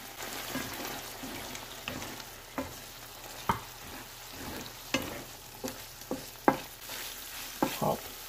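Shrimp with cooked bell peppers stir-fry in a wok as starch is added for hot and spicy shrimp: a steady soft sizzle broken by repeated sharp scraping strokes of the spatula at an uneven rhythm.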